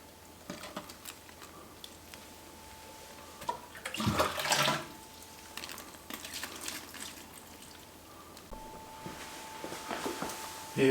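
Preheated sparge water pours into a stainless brewing kettle during a homebrew Tripel brew day, a steady watery rush with a louder surge midway and splashing toward the end, with no talk.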